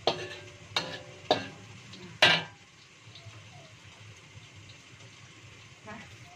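Very spicy sambal pete, chili paste with stink beans, is poured and stirred in a wok: four sharp metallic scrapes and clanks in the first two seconds over a soft, steady sizzle, with a voice talking throughout.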